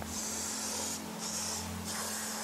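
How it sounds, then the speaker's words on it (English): Aerosol water dispersant sprayed onto zinc-aluminium coated boat trailer U-bolts gives three hissing bursts, the first two short and the last longer, over a steady low hum. "you can go along and give those a bit of a spray."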